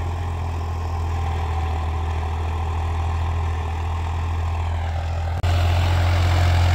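A Swaraj 855 FE tractor, 2024 model, runs with a 13-tine cultivator hitched on. Its diesel engine gives a steady, loud low hum, then the note steps up abruptly near the end and carries on alone.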